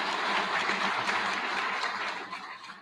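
An audience at a State of the Schools event applauds. Dense, even clapping runs continuously at steady loudness and fades slightly at the end, with no voices over it.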